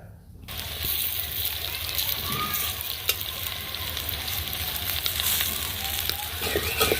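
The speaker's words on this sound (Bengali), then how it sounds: "আর বানাবো হচ্ছে পেঁয়াজু, তারপর হচ্ছে বেগুনির চপ, আলুর চপ আর ছোলা ভাজি করব। তো এই দিন সবগুলো একসাথে উল্টায় দিচ্ছি।" Piyaju, beguni and potato chops fry in deep oil with a loud, continuous bubbling sizzle, close up. Occasional scrapes and clinks come through as the pieces are flipped together.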